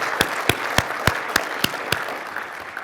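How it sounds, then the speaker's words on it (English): About seven sharp, evenly spaced claps ring out in a steady rhythm at a MicroConf entrepreneur conference, then fade into a soft room murmur. "So I actually would say let's clap about that."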